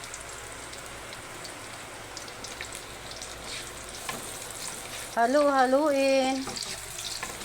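Garlic and onion sizzling in a pan for Filipino kaldereta, a steady crackling fry close by, with a voice speaking briefly over it near the end.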